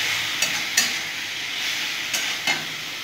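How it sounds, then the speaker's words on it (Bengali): Mutton fat being stirred into chickpea ghugni in a hot pan, giving a steady frying sizzle with a few soft scraping clinks of the spoon against the pan, and no voices. "ভালো করে মিলিয়ে দিলাম খাসির চর্বিটা"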